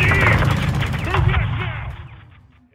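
Rapid gunfire from Call of Duty: Modern Warfare II, a dense volley of shots that fades out over a couple of seconds, mixed with radio-style voices.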